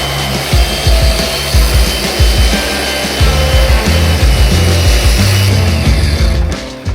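Paint on a Toyota Supra is wet sanded by hand, giving a loud, close, rhythmic rasping scrub in repeated strokes that keeps going steadily before easing off at the very end.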